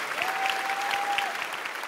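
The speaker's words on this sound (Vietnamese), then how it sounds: "Xin một lần nữa một tràng pháo tay cho Xuân Lộc và Hải Anh thưa quý vị." A theatre audience at a televised dance competition applauds a couple's performance, a brief dense burst of clapping that stays steady and fairly loud throughout.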